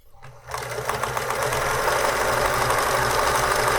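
A Pfaff 360 sewing machine starts up and quickly climbs to full speed, a loud continuous mechanical whir with rapid rhythmic clatter, close by and with no talk.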